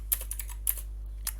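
A few quick, light keystrokes on a computer keyboard while a line of JavaScript code is typed, coming in short clustered bursts separated by brief pauses, close and fairly quiet with no voices.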